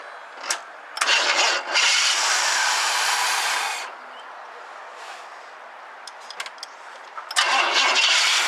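A 1974 Chevrolet Blazer with charging and choke trouble is started up close. A loud burst of cranking and engine noise runs for a few seconds, drops to quiet, then roars again near the end.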